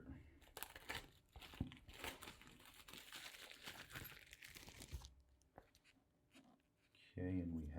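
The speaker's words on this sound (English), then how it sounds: "I'm going to attempt to remove the plastic with these gloves I have on" Gloved hands peel plastic wrapping off a new small-satellite kit during unboxing, giving several seconds of close crinkling and tearing rustle before it fades to quieter handling, with a brief voice near the end.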